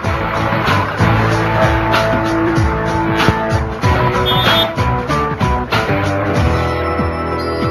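A car driving away from India Gate in Delhi, with a steady engine and road drone running throughout, loud and close, with occasional clunks and tonal beeps layered over it.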